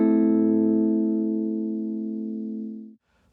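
One guitar chord in the CAGED C shape strummed once and left to ring, slowly fading for about three seconds before being cut off.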